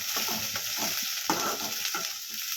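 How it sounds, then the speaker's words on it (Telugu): Onions stirred in hot oil with popping mustard seeds and cumin give a continuous close sizzle, broken by rhythmic scraping spoon strokes across the pan. "ఆవాలు చిట్టుపట్టు అన్నాక ఉల్లిపాయలు వేసుకోవాలండి. బాగా కలుపుకోవాలి."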